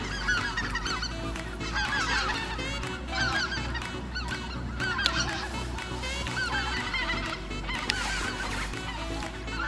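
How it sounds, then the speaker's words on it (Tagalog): Geese honk noisily in a chattering flock, overlapping calls running continuously against a low steady rumble. "nag-iingayan na yung mga ibon. Ang sarap pakinggan."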